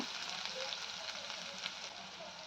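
Finely chopped onion frying in a pan of hot oil gives off a soft, even, continuous sizzle, fairly quiet and heard close, with no talking.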